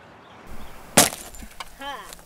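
Laminated front windshield of a car being kicked with both feet: one sharp, loud crack-and-crunch impact with splintering, followed by fainter thuds and crackles, with a brief voice heard near the end.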